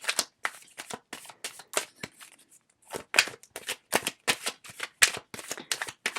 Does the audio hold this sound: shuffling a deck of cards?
yes